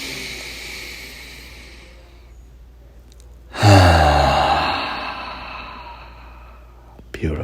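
A deep breath let out slowly during a guided breathing meditation: a quiet lead-in, then a sudden loud, breathy exhale that fades gradually over a few seconds, ending in a short soft sniff.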